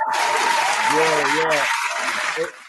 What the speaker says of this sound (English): Round of applause for that.